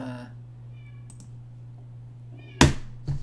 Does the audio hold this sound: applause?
no